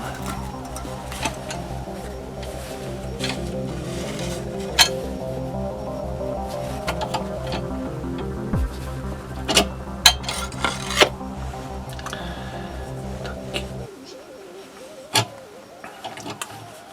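A scroll saw cuts a plate with a steady, rasping buzz for about fourteen seconds, broken by scattered clicks and knocks, then stops, leaving a few faint taps.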